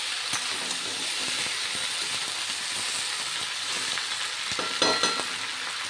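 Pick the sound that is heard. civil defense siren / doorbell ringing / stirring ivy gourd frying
stirring ivy gourd frying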